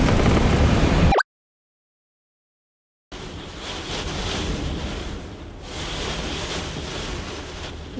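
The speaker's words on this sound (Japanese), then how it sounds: "雨すごいんだけど、 この辺特に風がすごい。" Strong wind buffets a camper van parked at a highway rest area near the coast in heavy, sideways rain, a loud, continuous roaring rush broken by a two-second silent gap.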